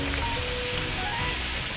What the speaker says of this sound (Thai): ดี๋ยวใส่น้ำเพื่อที่จะได้ให้ไก่อ่ะ มันสุก